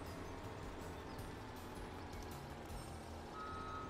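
A truck's reversing alarm in the farming game Landwirtschafts Simulator 17, repeated beeps sounding faintly and steadily over a low engine rumble while the vehicle backs up.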